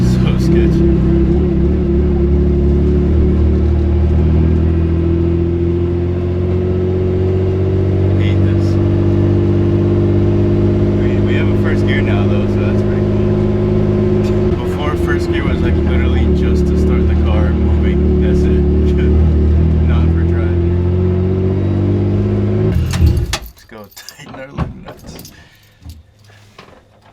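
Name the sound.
BMW E36 car driving slowly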